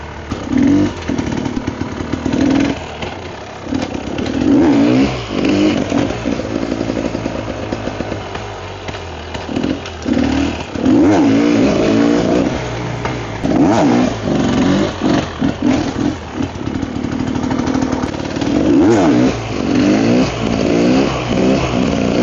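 A Rieju 300 MR motorcycle engine runs steadily and close, with repeated revs rising and falling over a continuous mid-range growl and no break in the sound.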